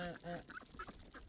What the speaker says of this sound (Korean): 지금 이곳엔 닭들은 오지 않고 거위와 흰오리들만 있는데